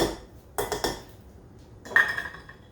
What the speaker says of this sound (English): And let's mix this up.